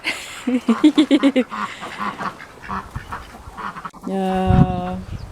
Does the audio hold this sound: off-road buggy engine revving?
no